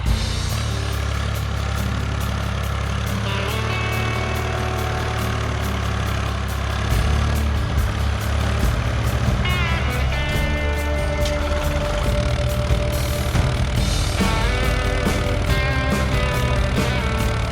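The engine of a large tractor runs loud and steady while it grades a yard, a heavy, continuous diesel drone with slight shifts in load and pitch throughout.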